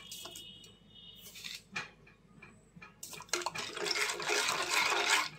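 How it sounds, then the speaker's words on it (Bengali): Milk being stirred in a pot with a spoon, sugar about to go in: scattered metallic scrapes and clinks against the pot, growing into a steady sloshing, scraping rush toward the end, close by. "একটু দুধ দিয়ে নাড়াচাড়া করে নিচ্ছি"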